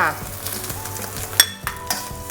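Minced pork filling with peanuts stir-fried over low heat in a pan for sago dumplings, a steady close sizzle broken by a few sharp clinks of the utensil against the pan.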